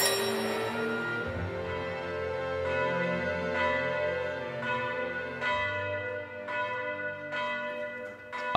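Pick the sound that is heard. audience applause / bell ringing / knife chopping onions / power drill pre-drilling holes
bell ringing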